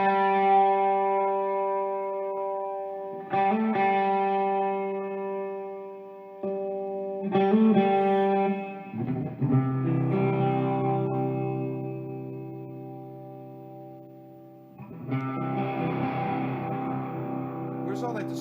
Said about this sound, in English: Where's all that distortion coming from?